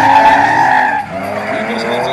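Drift car sliding sideways on the Tuczępy track during a 2016 drift event, tires squealing loudly in a sustained high screech with engine roar, easing briefly midway before resuming.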